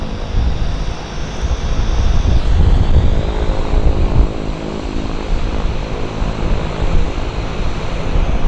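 A Beechcraft 1900 turboprop airliner at Vancouver Airport, its propeller roar steady and fairly loud throughout, broad and rumbling like surf, with no voices over it.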